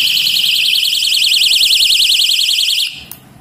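A cheap electronic bicycle bell blares a loud, warbling siren-like tone held continuously for nearly three seconds, close up, before it stops suddenly with a click.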